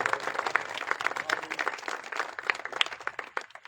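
A crowd applauding at a political gathering to wish someone a happy birthday, a dense burst of many hands clapping close by, steady then gradually thinning toward the end, with faint voices underneath.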